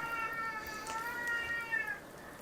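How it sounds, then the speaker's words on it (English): A male house cat meows indoors while heavy rain falls outside, giving a few drawn-out, wavering meows over a steady low background hiss. "My cat."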